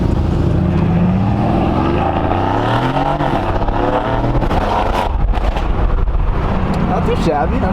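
A Range Rover engine roars loudly as the SUV accelerates while driving, heard from inside the cabin with the windows closed, a rising, continuous drone with the revs climbing.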